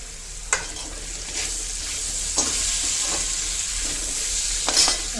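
Steady sizzling of onions frying in a pan, with a few scattered scrapes and stirring clatters over the continuous hiss.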